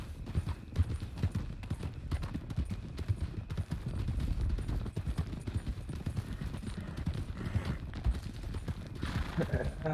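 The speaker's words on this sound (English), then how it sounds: "now we're gonna pick it up to a canter" Horse hooves clip-clopping faster as a mount picks up to a canter in the RedM roleplay game, a steady rapid rhythm of hoofbeats running throughout, with voices talking over it.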